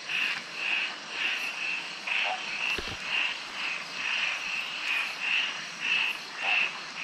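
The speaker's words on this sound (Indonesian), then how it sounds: "Bunyi katak kat sini memang unik-unik eh." Frogs croak at night at a riverside campsite in Gerik, Malaysia, a dense chorus of regular pulsing calls repeating about twice a second, fairly close and steady, with a brief low knock in the middle.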